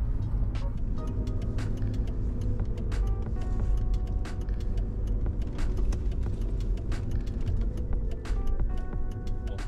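A Mercedes W220 S-Class on a test drive after a new air compressor and valve block install, heard from inside as a steady low road and engine rumble with scattered small ticks and rattles, no talking.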